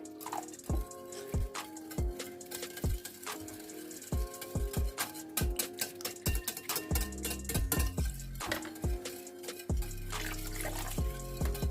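Water is added to whisked yogurt for kadhi in a home kitchen, with soft splashing and repeated drips and ticks against the bowl, plus a few clinks of utensils, fairly close and quiet, with no talking.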